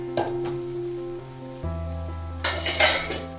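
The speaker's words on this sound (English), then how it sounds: "You have to stir it well." Grated carrots and milk for gajar halwa are stirred in a hot pan, producing a low bubbling sizzle with a few louder scraping strokes near the end.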